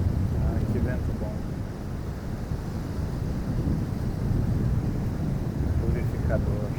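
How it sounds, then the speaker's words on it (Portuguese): Steady seaside wind rushes against the microphone, a continuous low roar filling the whole stretch, with faint voices mixed in underneath. "Que vento bom."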